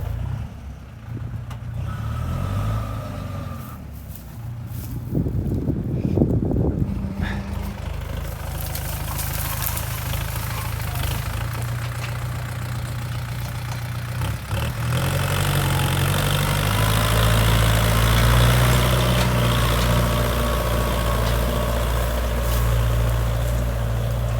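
A tractor engine idles steadily with a deep low rumble while stopped with its front wheels lifted off the ground, growing slightly louder and fuller partway through; no voices.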